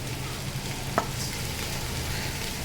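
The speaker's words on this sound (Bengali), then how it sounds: "পোলাওয়ের চাল আর মুগ ডাল কিছু সময় ভেজে নিলাম" Polao rice and mung dal dry-frying in a pot make an even, steady sizzle throughout, with a single soft knock from the spoon near the start and no speech.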